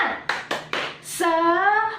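A classroom of students does a rhythmic spirit clap. Three sharp, evenly spaced claps come first, then a sustained voice briefly follows.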